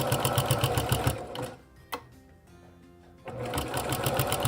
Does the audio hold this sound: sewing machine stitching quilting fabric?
yes